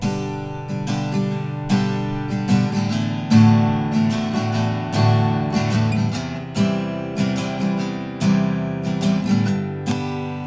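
Acoustic guitar strumming a chord progression, with some chords, especially the D, sounding messy with unwanted ringing notes; steady rhythmic strums, close and moderately loud, no talking.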